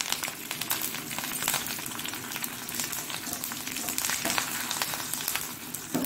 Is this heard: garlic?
yes